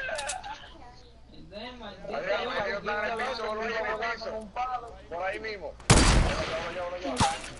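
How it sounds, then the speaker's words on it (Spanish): Someone talks excitedly throughout, then a loud burst of Fortnite gunfire cracks near the end, followed by a second sharp shot. "No, pero estos malditos tiros, loco"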